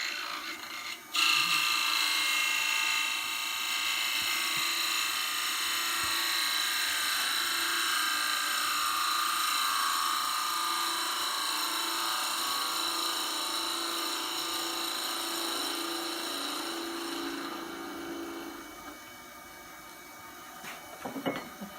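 Wood lathe turning a brush handle as a tool takes a second cut: a continuous close whirring, rasping cut with a steady tone that holds for most of the time, then fades out into a few light knocks.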